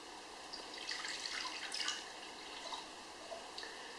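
Warm water pours into a mixing bowl for whole wheat bread dough, a faint, light trickling and splashing that stays quiet and continuous.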